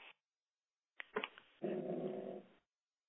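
A dog growls indoors, first with a short snarl and a few yips, then a steady, rattling low growl lasting about a second before it stops.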